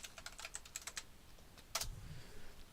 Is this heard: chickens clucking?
no